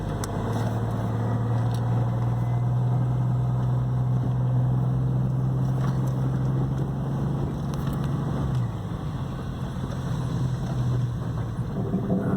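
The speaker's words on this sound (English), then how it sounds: "Let's just back her in and out of the driveway here." A Jeep Cherokee XJ engine idles and moves while backing in and out of a driveway, giving a loud, steady low rumble that shifts pitch near the end with no talking.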